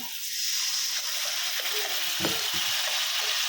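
Water is poured into spice masala frying in oil for a pomfret curry, producing a loud, steady hiss and sizzle with a brief splash and bubbling, close up.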